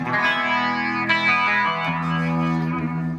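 Clean electric guitar played through an Ibanez PT-5 effects pedal, with sustained chords ringing with light chorus shimmer and no distortion, loud and close, alone without talk.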